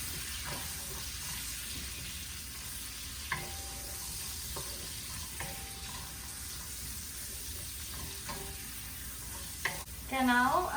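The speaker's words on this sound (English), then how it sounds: "And then I'm gonna saute the onion, sliced onions." Sliced onions sautéing in a pan on a stovetop, a steady soft sizzle throughout with occasional stirring clinks and a brief louder clatter at the end, no talk.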